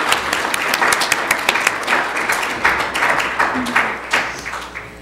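Audience applause for a panel of presenters at a conference on death and dying, a dense, steady patter of many hands clapping with a few sharper individual claps standing out, moderately loud and sustained throughout.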